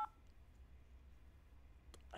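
A few telephone keypad tones ring out while a phone number is entered into an automated customer service line, brief faint beeps over low line hiss.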